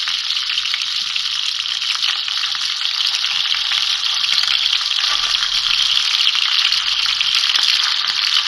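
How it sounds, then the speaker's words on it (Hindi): Chandan kebabs fry in hot oil, giving a loud, dense and continuous sizzle with a fine crackle that holds steady throughout, with no voices. "8 से 10 मिनट हो गए इसको मुझे फ्राई करते हुए।"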